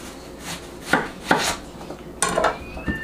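A knife chops a slice of red onion on a board for salsa, a few separate sharp thuds spaced unevenly and then a quicker cluster near the end, close by with no talking.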